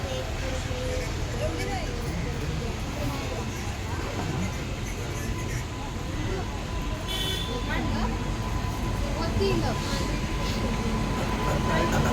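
The Sawantwadi–Diva Express idles at a crossing with a low, steady rumble and faint mechanical hum, while people talk nearby over the constant background noise.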